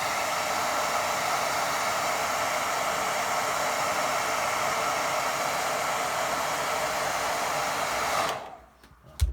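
Hair dryer blowing on a watercolour snow painting, a loud, steady roaring whoosh held for about eight seconds before it cuts off abruptly, close up with no talk.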